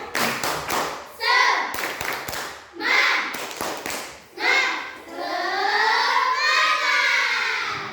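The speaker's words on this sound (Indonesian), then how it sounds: "Ayo, sebelum belajar kita kumpulkan semangat dulu. Tepuk semangat." A classroom of pupils performs a patterned spirit clap, bursts of rhythmic group claps alternating with children's chanted voices, ending in a sustained sung or shouted phrase.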